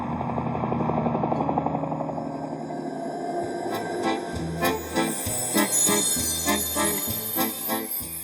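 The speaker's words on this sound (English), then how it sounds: "it's back out onto the ice in your very own helicopter" A helicopter flies over the ice, its rotor droning steadily at first before a series of heavier, pulsing thumps take over toward the end.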